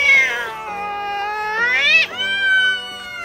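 Cats meowing in a home, drawn-out whiny meows with rising and falling pitch in close succession, loud and near, with no talking.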